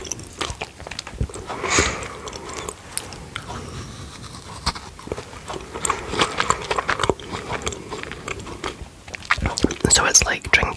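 Close-up whispering while a British biscuit is bitten and chewed, with crisp crunches and soft mouth sounds scattered between hushed talk.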